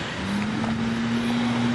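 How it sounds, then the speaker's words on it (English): Road traffic passes near a backyard pumpkin patch, a steady moderate rush of vehicle noise with a low engine drone running throughout. "A lot of traffic."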